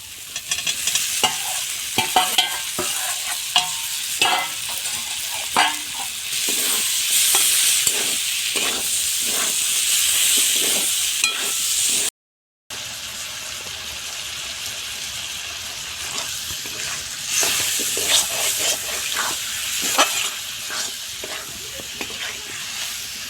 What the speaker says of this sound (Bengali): লঙ্কা গুঁড়া দিয়ে দিলাম ভেজে রাখা সবজি কয়টা একটু কষায় নিই